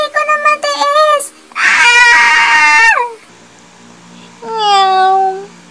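A human voice imitates a cat, giving several drawn-out meows close up, with short sung meows at the start, a long loud wail in the middle and another rising meow after a pause.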